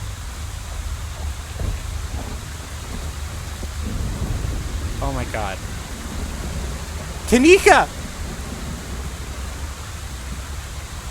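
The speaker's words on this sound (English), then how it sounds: "You're outside. It's raining." Steady rain and low rumbling thunder in the video game Scarlet Hollow, continuous and fairly loud, with a voice briefly exclaiming over the downpour.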